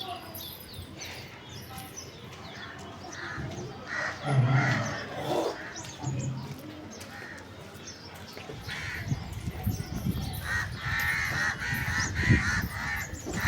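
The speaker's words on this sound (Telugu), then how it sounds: "చూడండి పక్షులు అయితే ఎలా వినిపిస్తుందో సౌండ్" Crows caw outdoors, repeating harsh calls at middle distance over a busy open-air background with other small birds chirping, and a voice is heard speaking at times.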